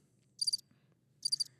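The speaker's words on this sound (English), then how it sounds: "I'm gonna give that some crickets." Two short bursts of cricket chirping used as a comedic sound effect, each a rapid trill of pulses, clear and fairly loud over a quiet background.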